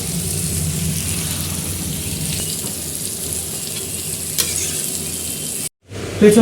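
Water poured into a pan of well-cooked chicken that has released its oil sets off a loud, steady hiss with stirring scrapes, which cuts off abruptly just before the end.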